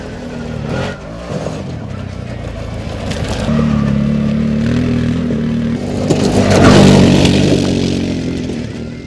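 A CFMOTO CForce 800S Black Edition ATV accelerates uphill, its engine droning loud and near and climbing in pitch as it regains speed.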